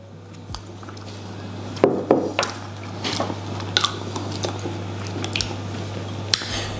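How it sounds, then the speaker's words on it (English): Homemade hot sauce gets scooped onto a spoon, a few soft wet squishes and small clinks of the spoon against a container, close and quiet over a steady low hum. "Let me get a bit of it on the spoon."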